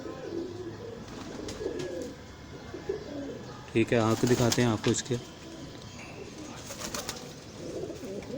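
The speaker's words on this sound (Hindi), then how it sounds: "ले जी, ये दूसरा कबूतर आपको दिखा रहे हैं। ये मामदीन गोल्डन है।" Mamdin Golden pigeon cooing in repeated rolling bursts near the middle, close and fairly loud, with someone talking before and after over background noise.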